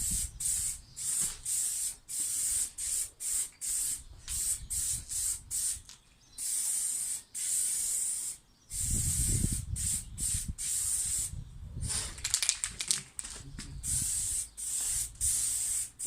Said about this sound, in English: I'll shoot the colour with some primer so that it's got a nice coat